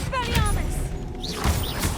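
Confringo blast spell in the Hogwarts Legacy video game on PS4, quick explosive impacts with whooshing magical effects, close and busy, mixed with a voice calling out over the action.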